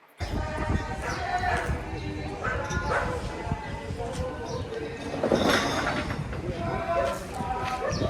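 Dogs bark repeatedly amid a busy mix of voices during a choir rehearsal in St Vincent and the Grenadines, with people talking and singing throughout; the barks are moderately loud and intermittent.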